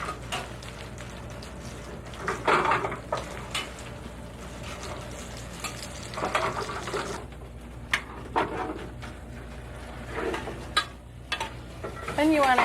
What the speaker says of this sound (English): just barely coat them in the butter. And really quickly give them a little bit of a saute